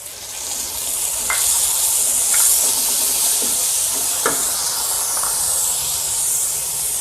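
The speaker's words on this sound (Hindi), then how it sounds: "अब अदरक और लहसुन का ये पेस्ट ये हम डाल देंगे।" Ginger garlic paste dropped into hot oil for stuffed bitter gourd, bursting into a loud hissing sizzle that holds steady with a few sharp pops and spatters, no talking.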